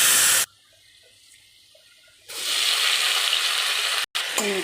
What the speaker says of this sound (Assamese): ধুনীয়াকৈ ভাতকেৰেলাখিনি ভাজি লওঁ।